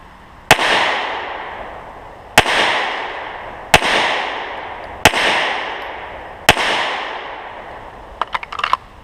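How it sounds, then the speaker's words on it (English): A handgun fired five times in slow succession during a trigger-control drill, each sharp report ringing out about every one and a half seconds, followed by faint clicks. "I'll come up and I'll press 3 to 5 shots slowly and really working on trying to get a good trigger press"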